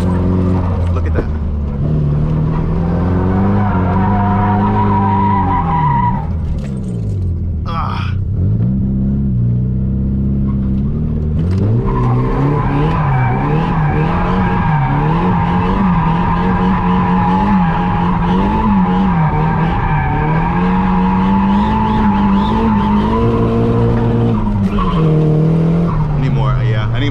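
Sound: drift car skidding and tire squeal while drifting

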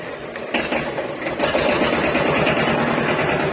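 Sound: Hinomoto E18 tractor engine running

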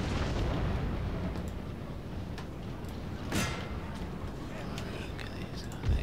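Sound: artillery fire in video game Napoleon Total War

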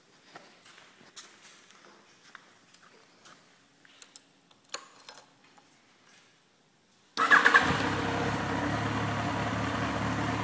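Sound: motorcycle engine electric start and idle

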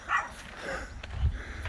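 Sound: Pomeranian dog barking

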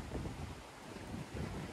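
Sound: strong wind at the beach

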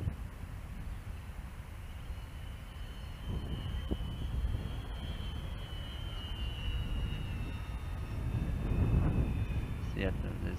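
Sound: Freewing L-39 Albatros 80mm EDF model jet flying

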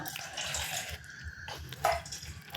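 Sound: warm water poured into a bowl

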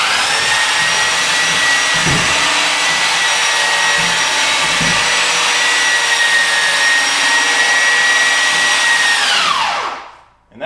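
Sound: Milwaukee Pullzall electric hoist lifting fifth wheel hitch

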